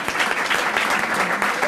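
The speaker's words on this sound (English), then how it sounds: "applause is worthy" An audience applauds the president of Wellesley College, a dense, loud and steady wash of many hands clapping together for the whole short stretch.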